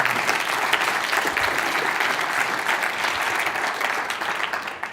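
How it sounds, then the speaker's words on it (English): Keynote-talk audience applauding, a dense, loud wash of many hands clapping steadily for several seconds before starting to taper at the end. "So if we could give them a round of applause."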